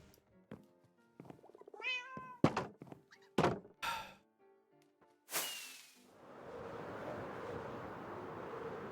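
A cat in a Minecraft survival game meows several times in a rising, drawn-out call among sharp game thunks and knocks, then a noisy rushing sound takes over near the end.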